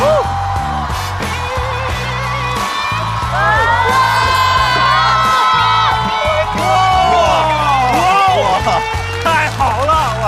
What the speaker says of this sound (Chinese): 掌声送给王小丽